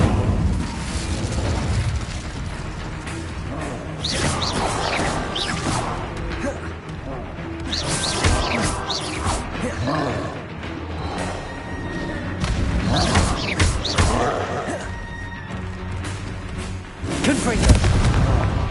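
An Incendio fire spell in Hogwarts Legacy roars amid chaotic combat, with repeated booming blasts, whooshes and thuds rising and falling over roughly twenty seconds, while a voice talks intermittently over the din.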